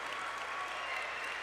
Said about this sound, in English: Hiland cheering for the sense of victory